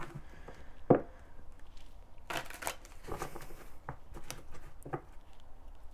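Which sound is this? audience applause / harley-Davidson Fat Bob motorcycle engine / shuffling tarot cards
shuffling tarot cards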